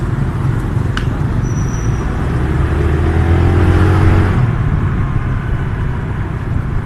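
Morning commute traffic in Phnom Penh, Cambodia: a steady, loud wash of road noise and engine hum from inside a moving vehicle, with a brief rise as nearby vehicles pull away, then settling back.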